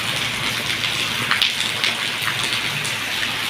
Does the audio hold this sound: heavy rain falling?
yes